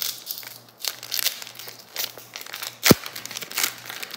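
A Japanese Pokémon booster pack, Eevee Heroes, is torn open by hand, a run of crisp foil crinkles and rustles with one sharp rip near the end, close and fairly loud with no speech.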